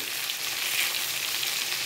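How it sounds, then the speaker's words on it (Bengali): Pieces of pointed gourd (potol) fry gently in a pan, giving a soft, even sizzle with a faint crackle. The sound continues steadily, with no talking. "পটলগুলো একটু আস্তে আস্তে ভাজবে যাতে পটলগুলো ঘেটে না যায়।"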